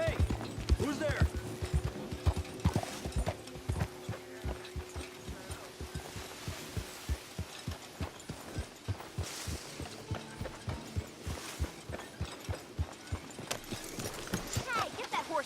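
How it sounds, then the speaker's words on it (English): Rhythmic clip-clop of horse hooves trotting steadily in the video game Red Dead Redemption 2, with a brief musical tone early on and faint background sounds. "get that horse out of here"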